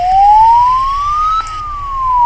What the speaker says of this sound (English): Literally, it's just a police car.